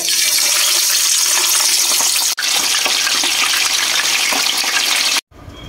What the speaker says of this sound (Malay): Minyak panas dah, kita goreng ikan.